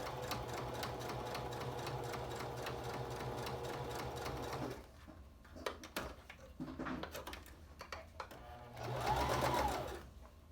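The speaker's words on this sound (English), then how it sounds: "Now you're going to sew both of the sides of the mask together so you seal the ribbon or shoelace into place." A sewing machine stitches both sides of a fabric face mask together with a 1/4 inch stitch, sealing ribbon or shoelace ties inside; a steady whirring run gives way to short bursts and pauses, then another brief run.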